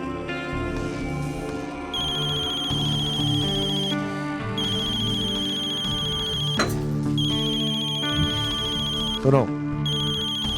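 A telephone rings in a Pakistani drama scene with a repeating electronic ringtone melody, clear and fairly loud, while a voice speaks briefly over it.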